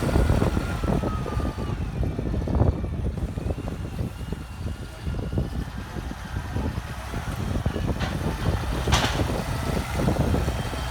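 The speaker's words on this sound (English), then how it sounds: "That is a 200 horsepower tractor, ladies and gentlemen." A 1972 American-built 200 horsepower tractor at a grassland event, its engine a steady, fairly distant rumble with a wash of outdoor background noise and no clear speech.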